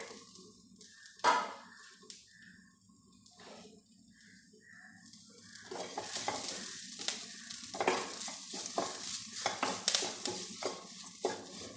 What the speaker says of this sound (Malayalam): നമ്മൾ ഇവിടെ അരമുറി തേങ്ങ എടുത്തിട്ടുള്ളത് വറുത്തെടുക്കുക